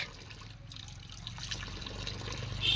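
Faint running water trickles and splashes softly as a child washes dishes, a low, continuous patter close by that grows slightly louder toward the end, with no talking.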